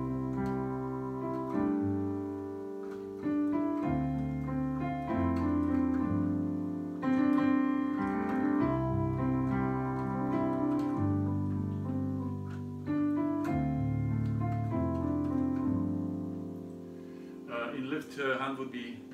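A piano plays a long sequence of sustained chords in a simple worship-music style, each chord ringing into the next at a steady, unhurried pace, with a brief busier flourish near the end.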